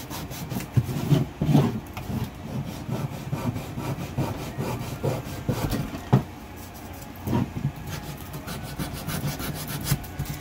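Wood being sanded by hand with quick back-and-forth scraping strokes, steady and fairly faint, continuing without pause and with no talking.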